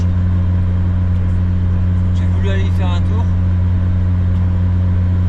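A Fiat Panda engine idles while warming up, a steady low drone running throughout as someone speaks briefly in French over it.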